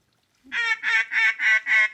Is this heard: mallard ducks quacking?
yes